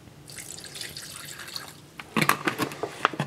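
Water poured into a cement mix: a soft trickle at first, then heavier splashing and dripping pours for the last second, close by, with no talking.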